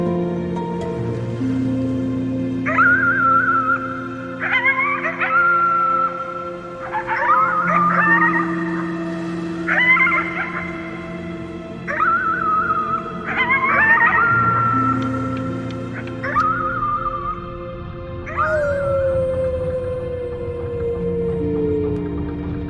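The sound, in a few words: howling at the moon in video game Before Your Eyes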